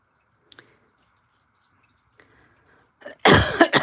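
Faint clicks and a small throat noise give way to a sudden loud, harsh cough near the end, close and alone.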